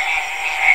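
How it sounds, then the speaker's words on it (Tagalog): Frogs calling outdoors at night by flooded rice paddies during field irrigation, a dense steady chorus of high trilling croaks, close and continuous with no talk. "pakinggan nyo muna yung huni ng palaka"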